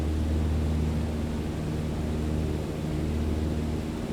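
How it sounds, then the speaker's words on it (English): A steady, loud airplane engine drones in Microsoft Flight Simulator 2020, an unbroken hum with a low tonal rumble and broad airy hiss throughout, no talk over it. "We're flying a damn plane."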